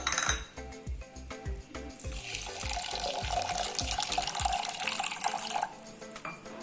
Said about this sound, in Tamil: அதை சேர்த்திக்கிட்டு கொஞ்சமாக தண்ணி சேர்த்திக்கலாம்